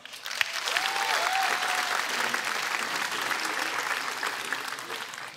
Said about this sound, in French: Merci d'applaudir Louis Poulain.